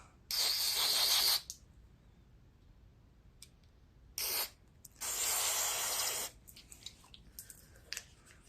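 Aerosol carburetor cleaner sprays onto a Poulan Pro snowblower carburetor with a 9.5 hp Briggs & Stratton engine in three hissing bursts, the middle short and the last longest, separated by quiet pauses with small clicks and taps.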